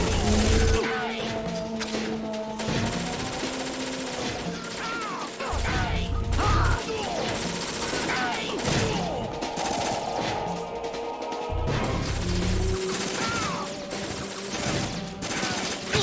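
Gunfire and impacts during a chaotic firefight in Metal Gear Solid 2: Sons of Liberty, with repeated loud shots, crashes and mechanical clatter layered over game music through a dense mix.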